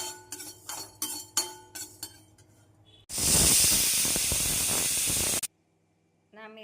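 A pressure cooker vents a loud, steady hiss of steam for about two seconds after some clinking kitchen sounds, then cuts off sharply; it is cooking a Kerala-style kadala curry of chickpeas.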